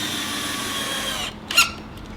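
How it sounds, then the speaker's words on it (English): A power drill driving the first screw into a wooden bench hive box, a steady whirring run that stops abruptly, followed by a short sharp squeal. "drill in your first screw"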